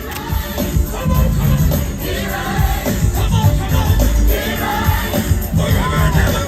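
Spectators along a Disney Princess race course cheer and whoop for passing runners in a steady, loud wash of crowd noise heard close up, with scattered voices rising out of the din.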